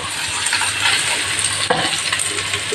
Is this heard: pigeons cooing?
no